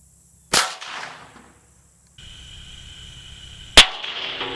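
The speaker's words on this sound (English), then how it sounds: "We're shooting this with a 22 right here to see if we can get some kind of spark from the bullet" .22 rifle shot striking a car fender: one sharp, loud crack with a short decaying tail, followed after a pause of quieter background and then a second sharp impact crack.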